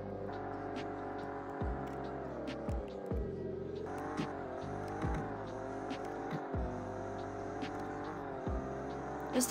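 An Alfa Romeo Giulia Quadrifoglio pulling hard through the gears, the engine note rising in repeated climbing sweeps with sharp dips at each shift, heard continuously from inside the car.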